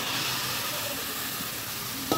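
Small chopped pieces of mutton fat sizzling as they go into a pan of partly fried spices, a steady soft hiss throughout with a brief louder crackle near the end.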